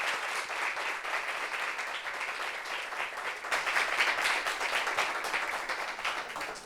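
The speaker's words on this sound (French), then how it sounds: "On va applaudir pour lui, s'il vous plaît." A studio audience on a French talk-show set applauds a newly introduced guest, steady dense clapping for nearly seven seconds that swells a little louder toward the end.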